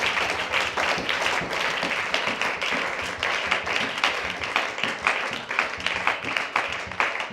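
A church congregation applauding, a sustained wash of many hands clapping with an uneven rhythmic pulse, moderately loud and steady throughout.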